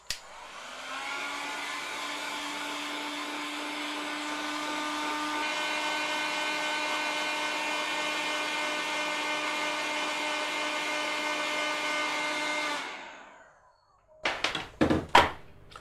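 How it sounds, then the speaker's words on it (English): A hot air gun blows steadily with a whining, hair-dryer-like hiss while shrinking heat shrink tubing over an underwater light cable joint, running close and constant for about twelve seconds before spinning down, then a few clunks of handling. "with a hot air gun and heating it to shrink the sleeving"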